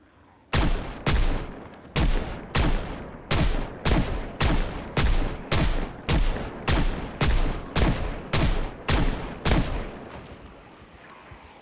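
A rapid series of about fifteen loud, sharp gunshots fired at an even, steady rhythm, each crack with a short decay, ending abruptly and followed by quiet.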